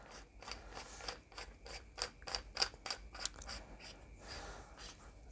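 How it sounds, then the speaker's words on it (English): An inlet valve is screwed back onto the cylinder of an FX air rifle, giving close, quiet ratcheting metal clicks and rubbing as the threads turn. "And then we're going to screw it back on the end of the cylinder."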